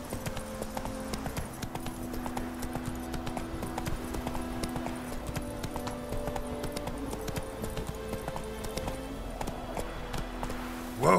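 Roach the horse in Witcher 3 clip-clops along at a steady running pace, hoofbeats continuous and close over a low sustained music bed throughout.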